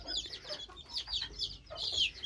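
Silver Sebright chickens clucking in quick, irregular bursts, fairly close, with soft chirpy calls overlapping throughout and no talking.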